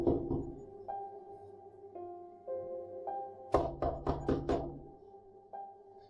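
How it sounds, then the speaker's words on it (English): Someone raps sharply and deliberately on a bedroom window during a snowstorm: a quick cluster of four or five hard knocks, close and loud, set against quiet sustained eerie music tones. "a sharp, deliberate knock against the window next to my bed"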